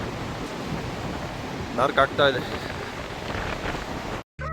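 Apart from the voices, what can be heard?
heavy wind in the mountains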